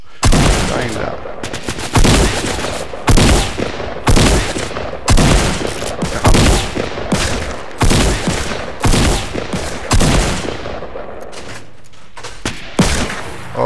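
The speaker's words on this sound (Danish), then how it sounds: "der bliver skudt på os" Bursts of automatic gunfire in Fortnite Battle Royale, loud repeated volleys about every second across the whole stretch, close and sharp, with a player's voice occasionally underneath.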